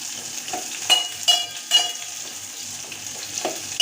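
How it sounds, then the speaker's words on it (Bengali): Onion frying in a pan with spices for Bengali pyazer dal, a steady close sizzle broken by several sharp stirring scrapes and clatters. "পেঁয়াজটা একটু ভেজে নেব।"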